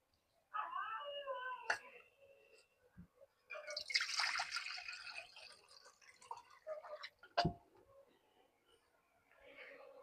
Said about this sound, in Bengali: এই যে আমি বেশি করে পানি দিয়ে দিচ্ছি